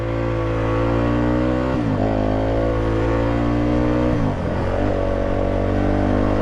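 Yamaha WR250F 249cc single-cylinder dirt bike engine revving loudly up close, holding steady buzzing pitches with two sharp dips and climbs as the throttle changes, no talk.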